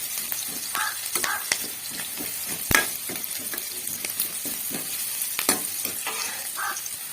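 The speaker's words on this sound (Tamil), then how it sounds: "பச்சை மிளகாய் போட்டு வெங்காயம் போட்டு நல்லா வதங்கட்டும்" Onions and green chilli sizzle steadily in a pan, with frequent scraping stirs and a sharp clink of the spatula partway through. No voices are heard.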